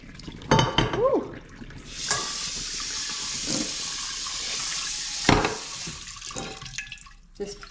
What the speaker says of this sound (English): Just cold water now you're putting in.